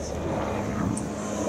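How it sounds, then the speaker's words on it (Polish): A Sikorsky S-70i Black Hawk helicopter, built in Mielec, Poland, and equivalent to the UH-60M, performs at the 2013 Radom Air Show, giving a loud, continuous engine and rotor roar with no break. "Ta wersja śmigłowca produkowana w Mielcu, S-70i Black Hawk, to odpowiednik modelu UH-60M"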